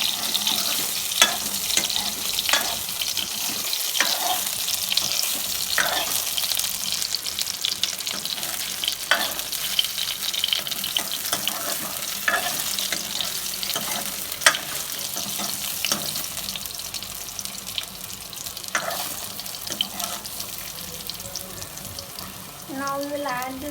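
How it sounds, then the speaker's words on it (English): Food sautés in a pan with a steady light sizzle, while a utensil stirs and taps against the pan at irregular intervals, close by. "We'll saute them for a few minutes."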